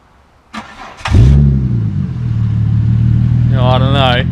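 A car engine with a homemade custom exhaust starts and idles with a deep, steady rumble, then gets a short rev near the end that rises and falls in pitch; it is close and loud, with no talking.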